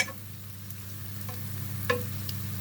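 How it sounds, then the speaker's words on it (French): Smoked pork belly fries with onion in a pan and is stirred, giving a steady low sizzle with a few faint scrapes of the utensil, close by and without talk. "Là, la poitrine de lard. Je fais un petit mélange."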